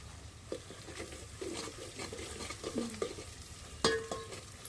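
Ground coriander is sautéed in a pan over a wood-fired stove. Soft, quiet scraping and stirring run under a faint sizzle, with a few sharper clinks of the spoon against the pan near the end.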